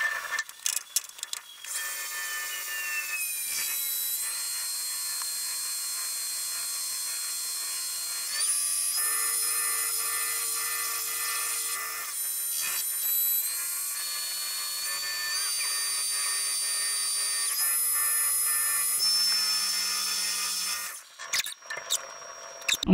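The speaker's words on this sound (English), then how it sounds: "Probably gonna make about 15 pounds of chips right now just roughing this out." A PM 1440TL metal lathe takes a roughing cut on a wheel hub and throws off heavy chips. The tool hisses and whines steadily for over twenty seconds, close up, with shifting tonal squeals and a few brief changes in the cut.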